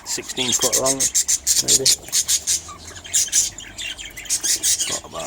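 Budgies in an outdoor aviary housing several breeding pairs give off dense, continuous high chirping and twittering throughout, fairly close, while someone talks over the start.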